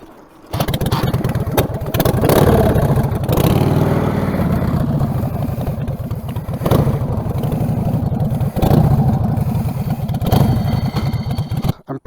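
An old Harley motorcycle engine catches after a brief pause and keeps running with a loud, close, lumpy rhythmic chug and some mechanical clatter, alone with no talking.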